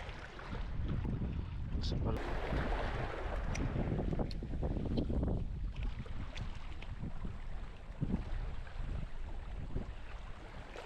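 Strong wind buffets and roars across the microphone without letup, with rushing water and occasional faint voices underneath.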